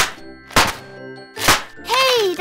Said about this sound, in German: Hier sind Knallbonbons.